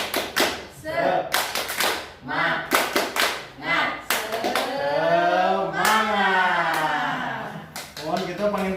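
A group claps in a rhythmic spirit-clapping routine, sharp bursts of hands in a patterned beat with voices chanting and calling along, close and lively.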